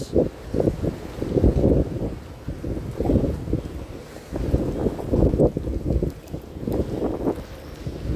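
Strong cold wind sweeps across a rooftop during rain, arriving in loud rumbling gusts that swell and fade several times, with low buffeting on the microphone and no speech.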